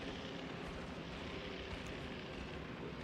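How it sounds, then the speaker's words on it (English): Aircraft engines drone continuously in a wartime video game as many planes fly around, a steady, broad roaring hum that stays even and fairly faint throughout with no talk. "There are so many planes around me."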